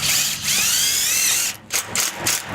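A power drill drives self-tapping screws through cement board into 18-gauge steel framing for an outdoor kitchen, a loud whining spin that rises in pitch, followed by a few short bursts of the drill, close and without speech.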